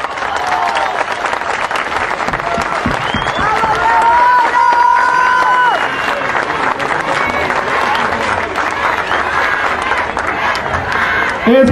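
A festival crowd applauds and cheers for a singer, a sustained, dense roar of clapping with whistles and shouts, loud and continuous throughout.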